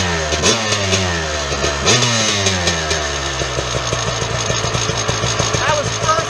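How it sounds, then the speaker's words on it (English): A 1996 Suzuki RM250 two-stroke motorcycle fires up on the first kick from a cold engine, then settles into a loud, close, rapid, crackling idle with a few sharp blips of revving. "That was first kick on a cold engine."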